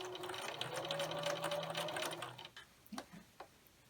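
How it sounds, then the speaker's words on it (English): Sewing machine stitching a quarter-inch seam on a pumpkin mug rug, a close, fast whirring run that stops after about two and a half seconds, followed by a few soft clicks and handling sounds. "then sew it with a 1/4 inch seam allowance."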